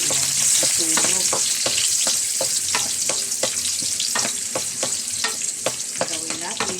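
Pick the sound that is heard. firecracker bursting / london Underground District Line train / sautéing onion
sautéing onion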